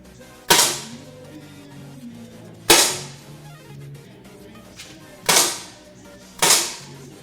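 Four sharp gunshots ring out at a target shooting competition in a mixed-team final, each a loud close crack with a short decaying tail, spaced roughly two seconds apart, with faint background voices and room noise between them.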